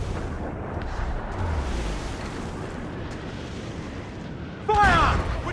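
Ship cannons in a naval battle video game give a continuous heavy rumble of booms, and a loud shouted voice bursts in near the end.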